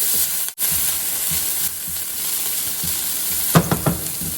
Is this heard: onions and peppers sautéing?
yes